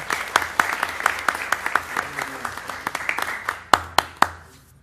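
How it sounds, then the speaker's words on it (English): An audience at an interfaith week proclamation event claps, a dense patter of hand claps that thins out toward the end, ending with a few isolated sharp claps, fairly close and moderately loud. "So give a round of applause to everybody who came out in force this year."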